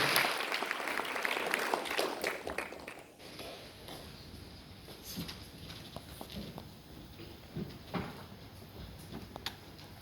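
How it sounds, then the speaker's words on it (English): Theatre audience applauds the teams at a drama competition grand finale, a burst of dense clapping that fades out after a few seconds into scattered claps and room noise. "a round of applause to all the teams who took part"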